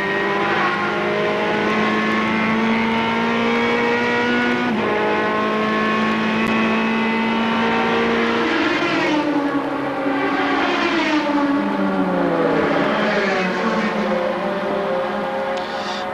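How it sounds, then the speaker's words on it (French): A Porsche race car engine screams at high revs at the Spa 24 Hours, 2006, shifting and downshifting as it brakes and accelerates, loud and continuous throughout. "Une Porsche qui freine beaucoup plus tôt d'ailleurs."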